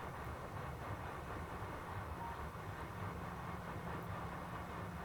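A train in Factorio rumbles along with a faint steady low drone and soft rhythmic rail clatter, heard quietly and at a distance with no talking.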